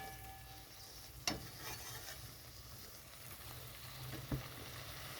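Potatoes and fish (shankar fish) frying in a pan, with a steady low sizzle and two sharp clinks of a spatula stirring against the metal.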